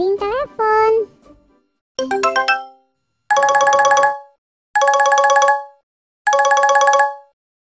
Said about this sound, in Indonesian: Dan suara dering telepon.